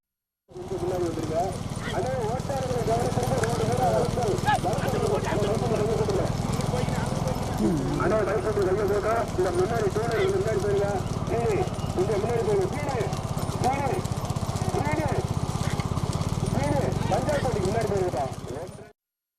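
Bulls pulling carts thunder along in a bullock cart race in Pudukkottai, a steady stream of hoofbeats and rumbling wheels under loud crowd noise and an announcer's voice, continuous for the whole stretch.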